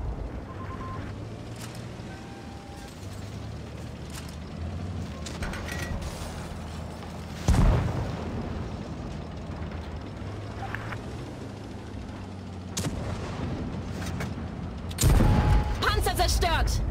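A tank destroyed in the World of Tanks Blitz battle game, heard as two sharp explosive booms several seconds apart over a steady rumbling engine and mechanical clatter, with a voice talking at times.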